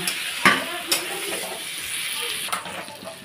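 Prawn curry masala sautéing in a pan, a steady close sizzle with a few sharp stirring scrapes and clinks standing out over the frying hiss.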